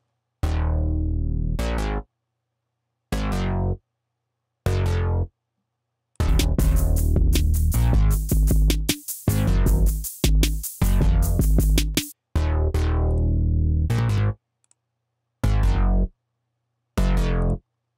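A fat octave synth patch from Propellerhead Reason plays alone in short, punchy bursts separated by silences, with a denser run of rapid stuttering notes in the middle, loud and dry.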